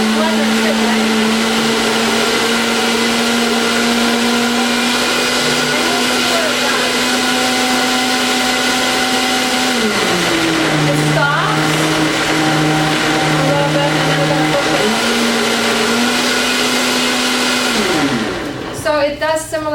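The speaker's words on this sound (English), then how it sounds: "that's a pretty good blender too" A blender whirs loudly and steadily, blending raw cashew cheesecake ingredients, its motor pitch dipping and recovering a few times as the load shifts, then winding down near the end.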